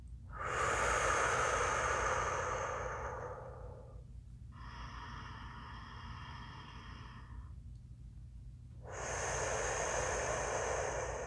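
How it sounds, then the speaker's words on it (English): Slow, deep diaphragmatic breathing during a breathwork session: a long, strong breath, a softer held tone, then another long breath, close and alone. "deep diaphragmatic breaths in through the nose and out through the mouth"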